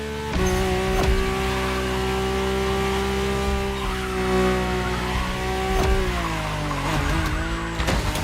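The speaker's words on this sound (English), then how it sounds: "My ultimate appointment in this country was set with the breathtaking Mercedes AMG 1." Mercedes-AMG One hypercar engine in the racing game The Crew Motorfest, a steady loud drone with strong harmonic tones that holds fairly constant, then dips and rises again near the end as revs shift.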